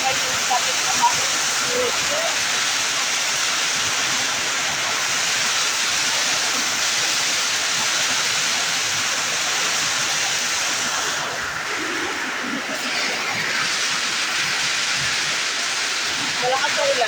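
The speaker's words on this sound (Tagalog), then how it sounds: "Malakas ang ulan dito sa Taytay." Steady, dense rushing hiss of heavy rain in Taytay, continuous and loud throughout, with faint voices murmuring underneath.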